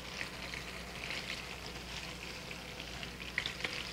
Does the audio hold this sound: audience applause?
no